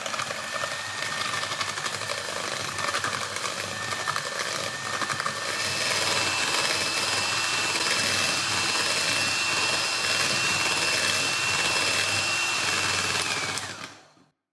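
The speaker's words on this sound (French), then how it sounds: "Moi, je vais utiliser un batteur parce que j'en ai un à disposition" An electric hand mixer whirs steadily for about fourteen seconds as it beats eggs and sugar in a bowl for a chocolate, caramel and hazelnut fondant cake, rising slightly in pitch midway before cutting off abruptly at the end.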